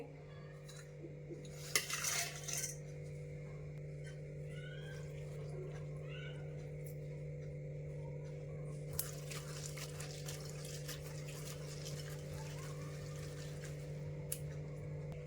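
Faint water sloshing and small clinks of a bowl or pan as dried shrimp are washed, under a steady low electrical hum, with brief bursts of running water.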